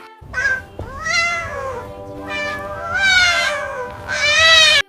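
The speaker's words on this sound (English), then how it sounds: "C for cat." A cat meows repeatedly, three or four long, drawn-out, rising and falling cries close and loud, with short gaps between them.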